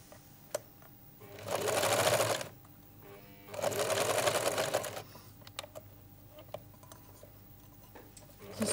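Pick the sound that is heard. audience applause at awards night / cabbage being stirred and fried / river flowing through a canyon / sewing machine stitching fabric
sewing machine stitching fabric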